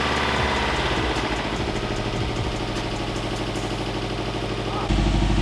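A totaled Subaru STI engine cranks and catches, then settles into a loud, steady idle with a rough, throbbing low rumble that changes character near the end.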